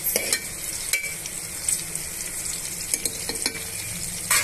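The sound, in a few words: bay leaf and cloves frying in a pan for chicken masala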